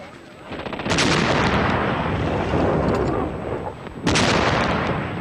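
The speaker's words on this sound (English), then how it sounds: "At 4 in the morning of June the 5th, a short bombardment began the final destruction of France." Short World War II artillery bombardment on the morning of June 5 ahead of the German assault on France: loud, sustained rumbling barrage with sharp booms near the start and again near the end.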